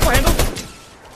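Rapid bursts of gunfire in the Fortnite video game, a quick volley of loud, close shots in the first half that decays into a fading tail.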